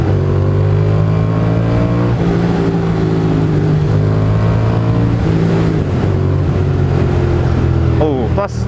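A motorcycle engine in New York City traffic idles and rises through a few throttle blips, its tone climbing and falling up close, with another vehicle's sharp rising whine near the end.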